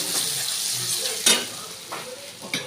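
Small lentils hitting hot oil and fried spice paste in a home kitchen pan, a steady bright sizzle with stirring scrapes and a few louder spits, close and continuous with no talk.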